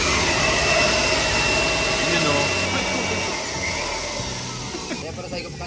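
A blower roars close and loud, a steady whooshing hum as it dries moisture from the window tint of a 2010 Subaru Forester, easing slightly toward the end, with brief talk over it.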